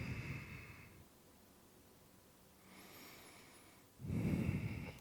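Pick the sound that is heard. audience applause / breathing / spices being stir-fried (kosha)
breathing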